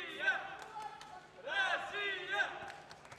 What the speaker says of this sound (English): the crowd trying to get behind the home favourite